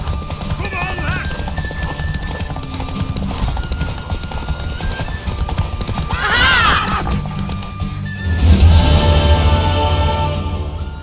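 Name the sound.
horse galloping in a video game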